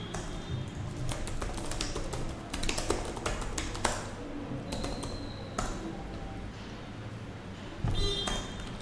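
Keys on a computer keyboard are tapped in quick irregular bursts while code is entered, close and fairly loud over a steady background hum.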